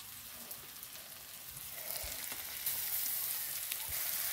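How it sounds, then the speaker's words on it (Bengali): Onion frying in oil in a home kitchen, a faint, soft crackling sizzle that grows a little louder midway and holds steady, with occasional small pops and no talking. "তেলের মধ্যে পেঁয়াজটা দিয়ে দিয়েছি।"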